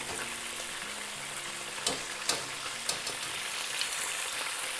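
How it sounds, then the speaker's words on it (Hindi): Steady, close sizzle of food frying in a pan for chicken noodle soup, with a few sharp clicks and scrapes of stirring breaking through; no voices. "और इसको थोड़ी देर फ्राई करेंगे जब तक कि इसका कलर ना चेंज हो जाए"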